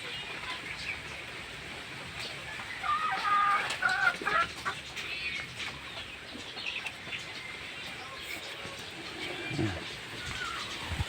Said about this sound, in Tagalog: Maliliit itong mga manok nito idol.